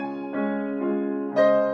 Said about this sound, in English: The piano plays